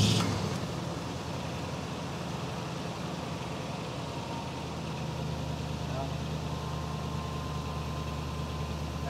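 A Toyota Tundra's 4.7-litre engine starts and settles into a steady idle during a transmission fluid change, a continuous loud rumble that holds for the whole stretch.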